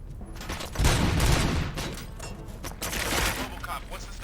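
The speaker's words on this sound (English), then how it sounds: "Gunshots? What's going on?" A burst of gunfire rattles out in the Robocop Rogue City video game, loud repeated shots around the first second and again near the end, with a voice speaking over the action.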